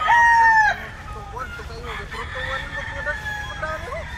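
A Super Black Ninja rooster crows loudly and close for under a second, followed by softer clucking and chatter from a crowd of chickens and pullets.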